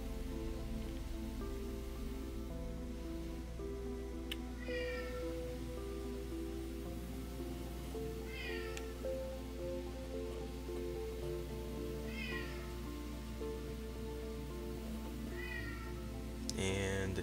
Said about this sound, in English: My cat is being annoying.